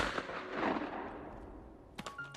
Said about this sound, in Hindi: फिर उसे गोली चलने की आवाज आई